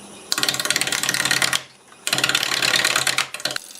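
A wood lathe spins a maple bowl blank at about 550 RPM while a 5/8 bowl gouge knocks off the corners. Dense, rapid chattering bursts of cutting come close up, split by a short quieter pause.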